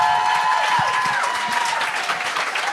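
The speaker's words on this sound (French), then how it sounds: "Jenny, tout le monde, on peut l'applaudir." A comedy show audience claps and cheers for a comedian, a dense burst of applause that holds steady while a voice speaks over it.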